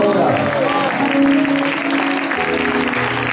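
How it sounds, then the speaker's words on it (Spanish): Church congregation applauding in worship, a dense, steady wash of clapping that holds throughout, with voices and sustained tones mixed underneath. "dale un aplauso a Él en esta hora"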